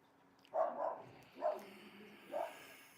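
A dog barks three times from nearby, each bark spaced about a second apart against a quiet background.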